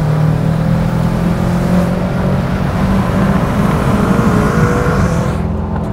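BMW M5 F10, a tuned 780-horsepower sedan, accelerating hard in third gear, a loud continuous engine roar with a rising drone heard from inside the car, filling the whole stretch without talk.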